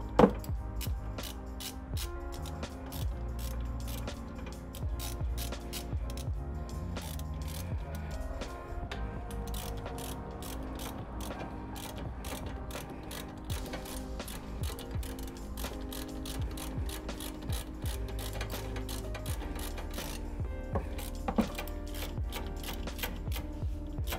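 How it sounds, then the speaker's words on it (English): A ratchet runs in the brake caliper bolts on a Pontiac Grand Prix during a brake and rotor replacement, giving rapid, steady clicking under continuous background music. "Get our ratchet and we're gonna run these in."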